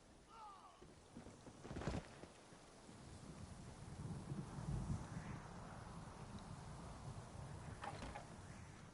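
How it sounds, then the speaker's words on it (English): Low rolling thunder in the Elder Scrolls Online game world, a distant rumble that swells and fades over several seconds beneath steady rain-like ambience, with a couple of sharper cracks. "Sounds like thunder."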